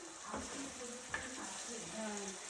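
Chopped onion, ginger and garlic fry in a pan until lightly browned. There is a soft, continuous sizzle with a faint stir partway through, quiet overall, with a trace of voice in the background.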